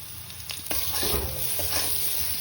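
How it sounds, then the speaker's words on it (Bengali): Steady oily sizzling of cut potatoes frying in oil in a pan, with a few clinks and stirring scrapes over the hiss, close and continuous. "এবার কাটা আলুগুলোকে ভেজে নেওয়ার জন্য তেলে দিয়ে দেব"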